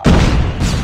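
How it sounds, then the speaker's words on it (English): A bomb-drop explosion in the mobile shooter Call of Duty Mobile, a loud, heavy boom that hits at once and rumbles on for under a second with dense low-end thud. "Bomb drop."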